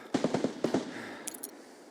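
A quick burst of automatic gunfire in the video game Escape from Tarkov, several sharp rapid shots then a second short volley, moderately distant, followed by a faint high metallic clink.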